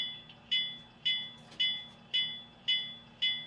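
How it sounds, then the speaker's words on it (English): A small electronic bell on a ScaleTrains GTEL 8500 turbine model locomotive dings steadily, about twice per second, each ring decaying quickly; faint and alone, with no talking. "Pretty cool bell."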